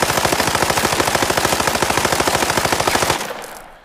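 A long, rapid burst of automatic fire from an MCX rifle in Arena Breakout, 60 rounds loud and evenly paced, cutting off abruptly and leaving a short fading echo.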